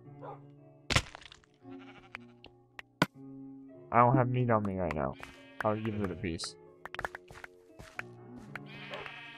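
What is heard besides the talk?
sheep bleating in Minecraft, a video game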